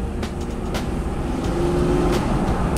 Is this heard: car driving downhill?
yes